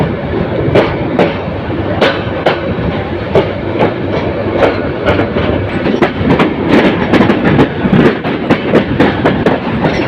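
A train rolls into Airport railway station with loud, close, steady clickety-clack as wheels strike rail joints in a rapid rhythm over a constant rumbling roar.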